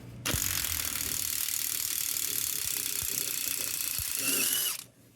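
An old American-made Craftsman hand ratchet with a 12-point socket turns front axle bolts, giving a steady, dense run of close metallic clicks that carries unbroken for about five seconds with no talking.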